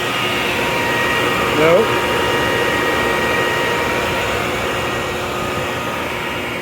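Blower steadily inflating a DD airbag, heard as a loud, continuous roaring whoosh throughout, with a brief voice speaking over it.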